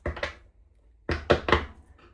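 Tarot cards are shuffled by hand in two short, dry bursts of riffling and tapping, close and clear, separated by a brief silent gap.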